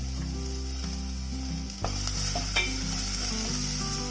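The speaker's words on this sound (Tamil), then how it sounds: "கொஞ்சமாக எண்ணெய் ஊற்றிருக்கோம், அதனால வெங்காயம் வதங்குறதுக்கு உப்பு போட்டிங்கன்னா நல்லா வதங்கிரும்" Onions sautéing in a little oil with salt in a pan for broccoli soup, a steady close sizzle with occasional stirring scrapes over a constant low hum, with no talk.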